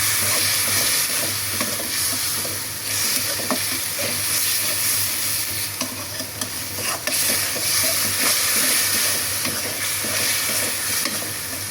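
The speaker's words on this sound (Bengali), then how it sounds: "মশলাটা কষিয়ে নিচ্ছি" A spice paste of ginger, garlic, turmeric, chili, cumin and salt fries and is stirred in a cooking pot, giving a loud, continuous sizzle close by with scraping stirs throughout.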